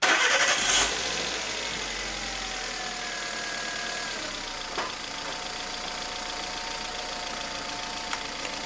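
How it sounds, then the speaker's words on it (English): A car engine cranks briefly at the start, then settles into a steady idle near 800 RPM, a constant mid-pitched hum with faint rising tones, close and fairly loud with no talking. "I'm starting my engine to the idle speed around 800 RPM"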